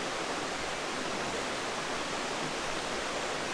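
Steady broadband rush of a stream flowing near a spot where a person dips their feet in, continuous and fairly close with no other sounds.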